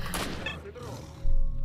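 Gunfire in the S.T.A.L.K.E.R.: Shadow of Chernobyl video game, a loud burst of shots early on, then a heavier boom near the end, with game ambience and some voice-like sound in between.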